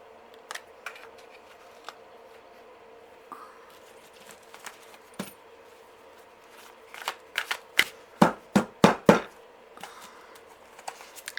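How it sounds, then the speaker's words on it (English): Tarot cards are shuffled and drawn by hand: faint rustles and soft slides at first, then a quick series of sharp, crisp riffle snaps near the end, close up with no voices. "let's pull 3 cards"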